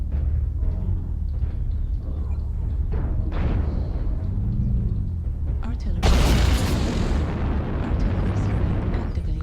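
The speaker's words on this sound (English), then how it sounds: "Artillery." Artillery explosions in the video game MechWarrior Online: muffled booms and rumbling impacts under game noise, with a loud, broad blast arriving about two-thirds of the way through.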